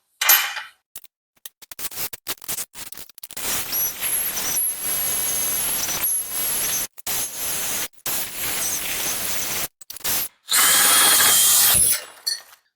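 A power drill with a large Parkside tile bit grinds through ceramic tile in long, harsh bursts with brief pauses, loud and close, rising to a sharper scream near the end.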